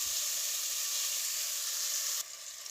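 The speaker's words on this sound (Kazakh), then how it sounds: "3 минут қуырамыз." Chopped onion strips frying in oil for lamb lagman, a steady close sizzle and hiss throughout that drops slightly quieter near the end, with no talk.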